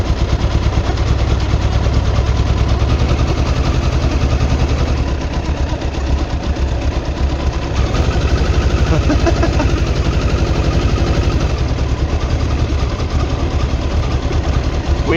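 A 1989 Kawasaki ZX-10 motorcycle engine idling on choke during a restoration, a loud, steady, rapid mechanical chugging that runs continuously and close throughout with a slight dip midway.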